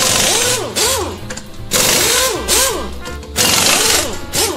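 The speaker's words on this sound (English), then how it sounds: "I'm gonna board you in with some 2x4s and screws" A power driver sinks screws through 2x4s to board up a closet door, heard as three close, loud bursts of whirring, rising and falling motor whine with rattling.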